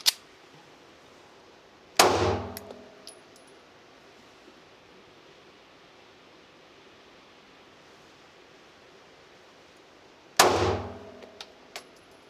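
A 9mm pistol fires Hornady Critical Defense rounds at a shooting range: two sharp, loud shots about eight seconds apart, each followed by a brief ringing decay, over quiet background hiss.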